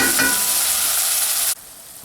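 Vodka sauce cooks in a pan, giving a steady, even hiss of bubbling and sizzling close by, with a faint tap near the start, then it cuts off abruptly to near quiet for the last half second.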